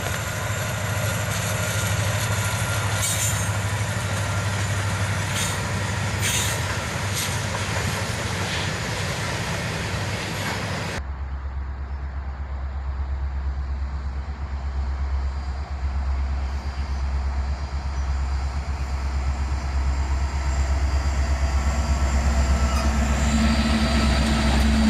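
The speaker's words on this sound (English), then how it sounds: "catch this Norfolk Southern train with an SD70 ACC leading" Norfolk Southern freight train led by an SD70ACC locomotive rolling past near a river bridge in downtown Dayton, a steady loud rumble of wheels and engine that shifts to a deeper drone partway through.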